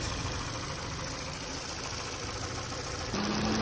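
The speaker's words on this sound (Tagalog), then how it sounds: "magbukas na ang kanyang radiator fan motor" A 2019 Ford Fiesta's radiator fan motor whirs steadily up close over an overheating engine's hum, with a pitch change and a slight swell near the end, the fan switching on with a faulty thermostat.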